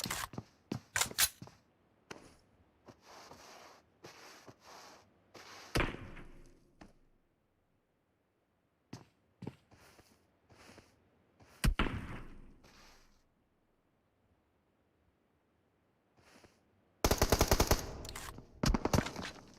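Gunfire in PUBG Mobile during a championship match comes in scattered bursts, with rapid automatic volleys and single shots separated by quiet gaps and a heavy sustained burst near the end.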